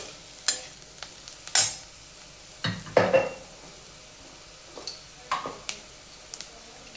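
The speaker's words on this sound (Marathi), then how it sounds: "आता कांदा आणि टाकलेला मसाला छान परतून घेऊया आपण तेलामध्ये" Onion and masala sauté in oil with asafoetida for a Kurdaya bhaji, a soft background sizzle broken by repeated spoon scrapes and taps against the pan, fairly quiet and close.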